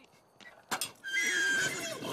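A horse whinnies at a stable in The Sims 3 video game, a sharp onset followed by a long, loud neigh with wavering pitch lasting about a second.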